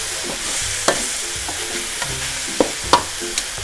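Eggplant and basil stir-fry in a hot pan with a steady sizzle, broken by a few sharp scrapes and clacks of a spatula.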